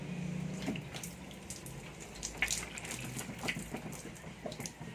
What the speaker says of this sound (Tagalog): Muli nating buhusan ng tubig